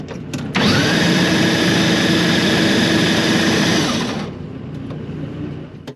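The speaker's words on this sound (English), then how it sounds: "You'll hear the engine spin over. All right, we're gonna spin it." A top fuel dragster engine spins over with a loud, steady mechanical roar and a high whine for about three and a half seconds, then drops to a lower rumble.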